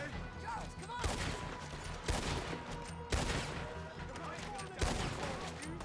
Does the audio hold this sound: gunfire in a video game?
yes